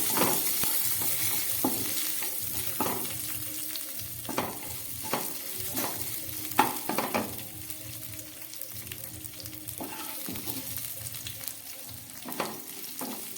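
Cashews, raisins, cardamom, cinnamon and cloves fry gently in ghee over low heat, a soft steady sizzle broken by repeated scrapes and stirring strokes of a spoon against the pan, close and alone without talk.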